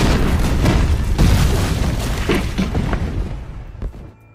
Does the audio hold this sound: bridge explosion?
yes